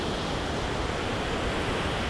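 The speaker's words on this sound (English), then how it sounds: "Here on the beach in Costa Rica, as you can see, this is, like I said earlier, it's absolutely gorgeous. The waves," Ocean waves break on a white sandy beach with rocks and a cliff face in Costa Rica, making a steady, close, broad roar of surf with no voices.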